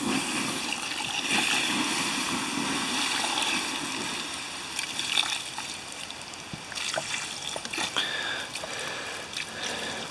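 Water poured from a container onto a campfire to put it out, producing a steady close splashing and hissing trickle with scattered sharper splats over about ten seconds.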